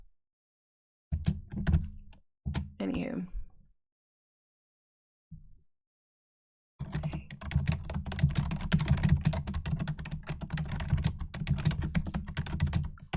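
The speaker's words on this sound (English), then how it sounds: "Can you hear my typing?" Rapid clicking on a computer keyboard runs continuously through the second half, close and crisp; before it, a few short bursts of keys, a soft thunk and a brief spoken word break the silence.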